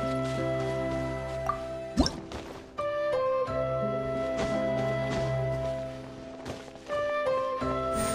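Genshin Impact game scene with a water droplet popping out of a wall, soft squishy drips and a wet thwack over a steady layer of melodic game music.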